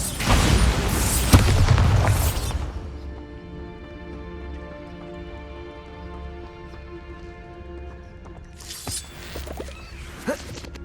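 The Bombarda blasting spell in the wizarding video game Hogwarts Legacy: a loud, booming explosion opens the moment and rumbles out, and a second, shorter burst follows later over a quiet, humming background.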